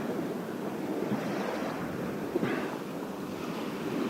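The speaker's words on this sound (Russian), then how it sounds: "Катера проехали, и волны от них пошли." Wake waves from passing motorboats wash along a river dam shore in Yakutsk, a steady broadband surf-like rush with wind buffeting the microphone and a brief splash near the middle.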